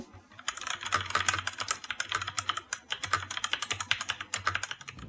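Rapid typing on a mechanical keyboard with tactile brown switches, producing a quick, irregular stream of soft, close keystrokes that run continuously, with no voices.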